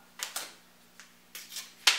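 Paper is torn off in short bursts beside a microwave being prepared for spray painting, several quick ripping rasps spaced through a brief moment against a faint steady hum, with no talking.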